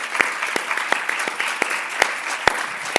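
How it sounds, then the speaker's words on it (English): Conference audience applause, a thin round of clapping with several distinct sharper claps standing out from the steady patter, moderately close and without talk. "Please, applause."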